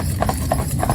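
Two horses, Harvey and Lenny, of differing size and body length, walk together as a pair being prepared for a wedding, their hooves clip-clopping in a steady uneven rhythm over a low, constant background rumble.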